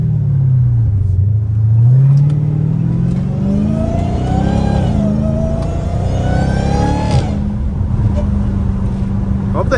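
Supercharged Hellcat Redeye engine heard from inside the car, a deep loud rumble that climbs in pitch as it accelerates, eases, then pulls up again with supercharger whine, with a voice talking over it.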